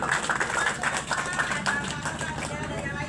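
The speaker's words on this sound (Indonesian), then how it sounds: "Tepuk tangan dong untuk Mbak Pur" Audience clapping at a foundation gathering, a close, dense burst of hand claps mixed with crowd babble that fades slightly toward the end.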